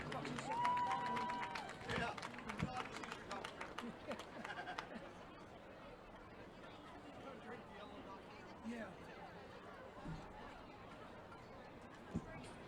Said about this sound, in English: All right, let's give our golfers a big round of applause.